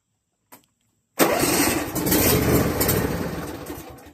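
A small two-stroke engine pops once briefly, then catches and roars to life, running loud and steady at close range before easing slightly, with no voices.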